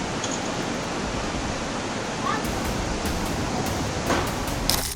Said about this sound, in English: Flash flood and debris in Turkey.